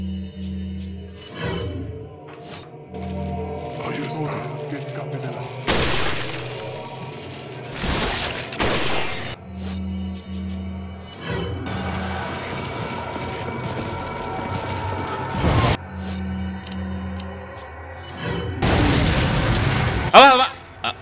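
Gunfire and explosions in the video game Resident Evil 4 Remake, several loud booming blasts and bursts spread across the stretch alongside game music and effects, with someone talking excitedly over the action.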